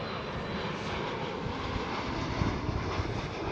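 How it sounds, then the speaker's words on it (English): A Transavia Airbus A321neo arriving at Schiphol airport in Amsterdam, a steady broad engine roar that holds constant and fairly loud throughout, with no voices. "we can see the arriving Transavia Airbus A321neo as well"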